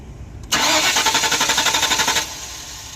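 A Ford Mustang SN95 V8 cranks with a quick, loud pulsing rhythm for nearly two seconds, then drops back to quiet.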